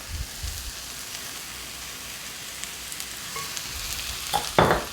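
Mushrooms sautéing in olive oil in a pan give a steady, low sizzle, with a few louder bursts of stirring near the end.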